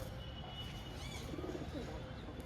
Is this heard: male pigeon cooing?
yes